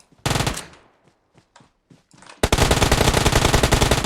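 Uzi submachine gun fire in a mobile battle royale video game on the Livik map: a sustained, loud automatic burst takes over after a few sharp earlier shots and a pause with scattered quieter noises.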